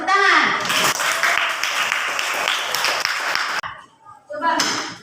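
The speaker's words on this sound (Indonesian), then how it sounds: "Oh bagus, tepuk tangan." A classroom group of students clapping hands, a burst of mixed clapping with children's voices and talk around it, then a brief pause and a second short round.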